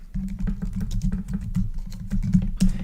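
Rapid, close keystrokes clatter on a computer keyboard as a search term is typed, an irregular run of light clicks over a low steady hum.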